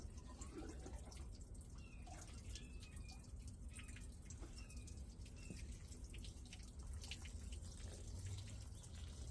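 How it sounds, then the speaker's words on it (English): Quiet trickling and dripping as water drains from the bottom of a freshly watered DIY wooden bonsai pot holding a pink guava tree, outdoors at sunrise, faint irregular drips over a low steady background hum. "I don't know if you guys hear that water running at the bottom of it."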